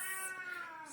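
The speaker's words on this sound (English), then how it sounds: "that's my cat." A house cat lets out one long, wavering meow up close that slides slightly downward, filling the moment on its own.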